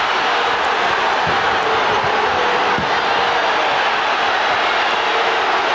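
Arena crowd at America West Arena in Phoenix during a 1993 NBA Finals game between the Bulls and Suns, a dense, steady roar of many voices filling the space without a break.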